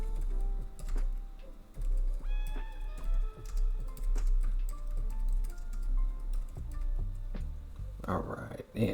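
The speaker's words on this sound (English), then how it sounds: "So we're going to go ahead and type that." Typing on a computer keyboard, with quick bursts of clicking keystrokes running through the clip while someone talks over them.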